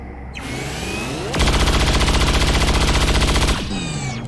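Weapons fire in the XCOM 2: War of the Chosen video game: a loud, close burst of rapid automatic shots lasting about two seconds, framed by whooshing and whining game effects before and after.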